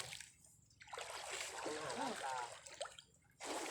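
Water splashes and spatters as someone bathes outdoors in Thailand, loud broadband bursts running for most of the clip, with a person's voice cutting in partway through.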